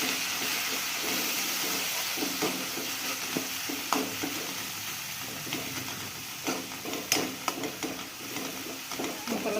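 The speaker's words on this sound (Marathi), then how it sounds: "आणि आपला मसाला भाजून घेऊया" Spice masala dry-roasting in a pan for a masala brinjal dish, giving a steady close hiss and sizzle with scattered crackles and pops and light stirring scrapes throughout, no talking.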